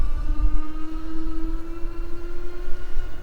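Electric Bike Company Model E cruising on throttle alone: a steady electric motor whine with a constant tone over continuous road and wind rumble, close and moderately loud, no pedaling and no talk.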